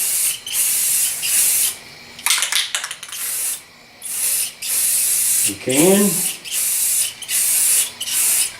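Repeated bursts of spray paint can hissing, short puffs in a steady rhythm, close and loud, with a brief spoken phrase in between, while painting a ported fiberglass subwoofer box.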